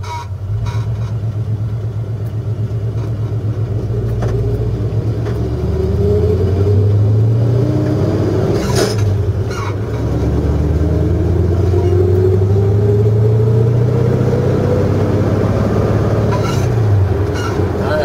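An old farm truck drives along with a loud, steady engine rumble and road noise, the pitch rising and falling as it shifts and accelerates over the whole stretch.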